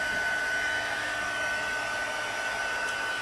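A steady, constant blast of blowing air with a high whine, like a heat gun running continuously nearby without pause.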